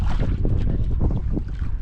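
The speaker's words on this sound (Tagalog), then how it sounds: "Lumakas ang hangin" Strong wind at sea buffets a small fishing boat, a dense continuous roar with gusting microphone rumble, loud and close for a brief moment.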